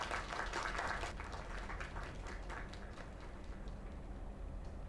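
Steady video-game crowd applause in a diner talent show, dense and even, with no voices, quiet and somewhat distant throughout.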